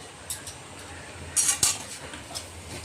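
A spoon stirring homemade garam masala into a potato curry in a pan, a few light metallic clinks and scrapes against the pan, with one brighter pair of clanks in the middle.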